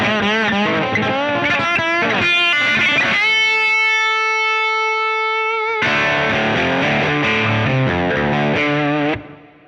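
Lap steel guitar played through a DCC Plexi amp with the overdrive switched off, a mildly driven hard rock tone with a busy run, a long sustained chord, then another busy run that fades at the end.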